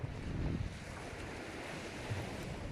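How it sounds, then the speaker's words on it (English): Steady wind buffeting a phone microphone at Brook Chine on the Isle of Wight coast in the evening, a broad rushing roar with low gusty thumps, continuous and without speech. "Hopefully the wind's not too bad on the phone"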